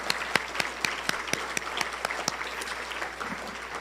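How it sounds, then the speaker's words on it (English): A fairly small audience at a community recognition event for recovery supporters claps: sharp, distinct claps in an uneven rhythm, moderately quiet, thinning out toward the end. "So will you join me in giving everyone applause?"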